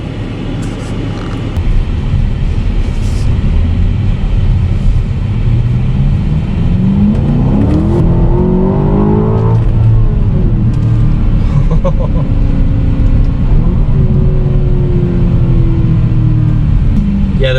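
A 2021 Aston Martin DBX SUV of almost 5,000 pounds accelerates hard in Sport Plus mode, its engine note rising steadily over several seconds, dipping at a shift, then climbing again as a loud, continuous rumble inside the cabin.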